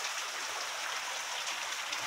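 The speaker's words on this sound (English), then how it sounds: "I think we got more rain right now than what we got all summer" Heavy rain pours down steadily during a 1 a.m. storm in Guelph, a dense, even hiss close by and without a break or any talking.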